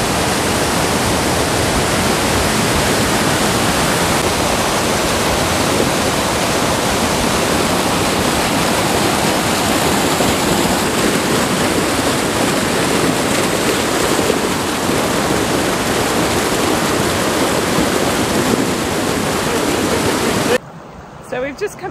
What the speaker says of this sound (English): we found this really cool spot with a little cascade